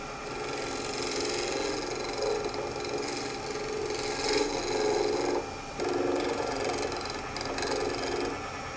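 Wood lathe turning and hollowing an apple-shaped base, a steady scraping, rasping cut with a whirring drone running throughout, close and continuous.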